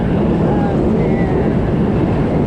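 A train passes up above near a lake where boats and skiers are out, a steady broad rumble filling the whole moment with people's voices faintly mixed in.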